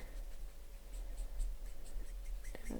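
Alcohol marker nib smoothing colour over skin areas on paper, a soft continuous scratchy rubbing with faint repeated strokes, close and quiet with no talk.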